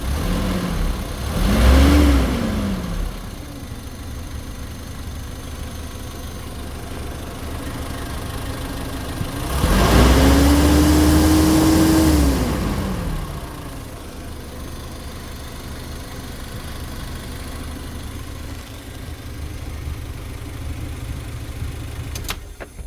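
The engine of a Mazda Bongo mini truck idles steadily with a faint clicking, then is revved twice, briefly and then for a few seconds longer, each rev rising and falling back to idle, with no one speaking.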